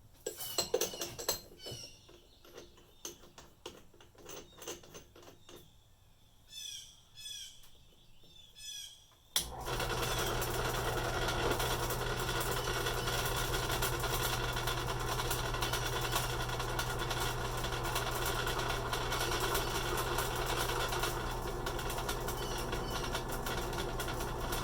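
Drill spinning a bolt shank against emery paper while working on a 1982 Ford Capri RS: a steady, loud, close grinding whir that starts abruptly partway through and holds, after quieter workshop clatter and chirps.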